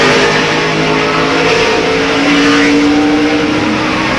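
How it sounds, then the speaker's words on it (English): Onboard engine of a 2002 NASCAR Winston Cup race car, a loud continuous high-revving roar heard from inside the car, with pitch shifting slightly as the throttle changes. "Let's go on board and listen to the engine."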